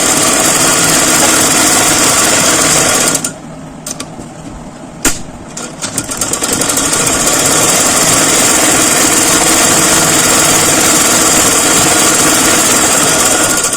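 A sewing machine stitches a blouse with a loud, fast, steady whirring hum that drops out briefly partway through, then resumes and runs continuously.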